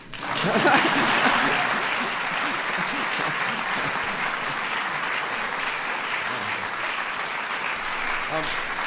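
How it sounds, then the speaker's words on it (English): Sustained audience applause at a Points of Light Award ceremony with the President, swelling loudly at first then settling into a steady dense clapping, with faint chuckles and murmurs mixed in. "That's an applause line."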